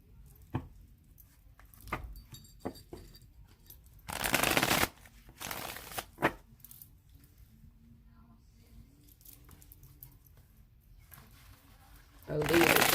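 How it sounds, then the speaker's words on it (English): A deck of tarot cards is riffled and shuffled in several short bursts, crisp close fluttering between taps and quiet pauses, with a soft voice in the background. "shuffle it one more time. And then let's cut the cards for this deck"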